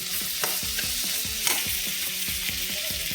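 Ridge gourd stir-fried in a pan with coriander, a steady close sizzle broken by a regular rhythm of spatula scrapes and stirring strokes, with no voices.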